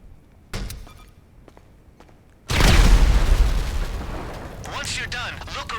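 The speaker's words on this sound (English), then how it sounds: "I love how explosions set bodies on fire in GTA." A sticky bomb goes off in GTA Online with a sudden loud boom and a long rumbling blast tail after a few sharp game gunshots.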